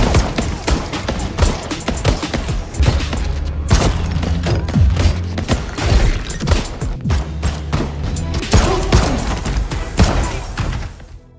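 Action-film gunfight with dense, loud bursts of rapid gunfire, booming shots and crashing impacts overlapping continuously in a chaotic, full-volume battle.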